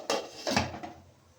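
A lid set onto a cooking pan: two or three close metallic clanks in quick succession, the middle one loudest, fading into quiet kitchen room noise.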